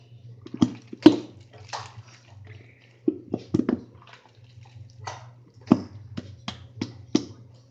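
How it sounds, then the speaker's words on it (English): Clear glue pours from its bottle into a bowl in a string of soft, wet splats and squelches. The irregular, close bursts play against a low background hum. "you want to take your bowl and pour all your clear glue into it"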